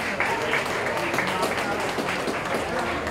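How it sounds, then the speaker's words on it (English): An audience applauds at a high school brunch event, a dense, steady wash of clapping that holds at even loudness throughout without pauses. "Please give her a round of applause."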